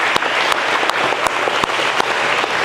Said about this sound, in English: Can we give a round of applause to Principal Williams